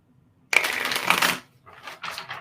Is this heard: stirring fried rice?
no